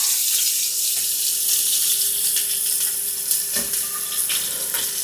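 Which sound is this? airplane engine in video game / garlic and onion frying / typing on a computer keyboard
garlic and onion frying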